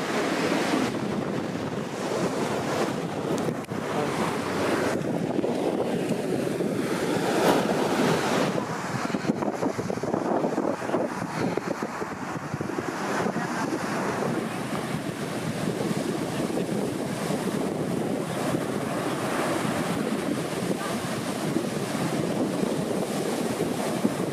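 Surf rolls in continuously at Venice Beach, Florida, with gusty wind buffeting the microphone over the steady wash of breaking waves.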